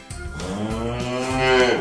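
A cow lets out a long, loud moo close by, its low drawn-out call rising and swelling toward the end, with no talking over it.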